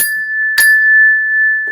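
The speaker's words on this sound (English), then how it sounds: "Got my own damn bell." A single bell struck once rings with a bright, sustained metallic tone that starts loud and close, then hangs and slowly decays over about a second with a brief soft noise near the end.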